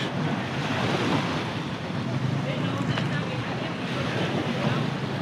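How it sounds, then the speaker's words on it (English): Surf washing ashore on Alona Beach in Bohol, Philippines, a steady broadband rush of waves mixed with wind buffeting the microphone, continuous and fairly loud throughout. "But here we have Alona Beach."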